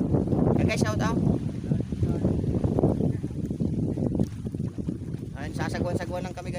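Paddling a small boat on open water during a camping and fishing trip, with steady broadband wind and water noise throughout and people talking over it at moments.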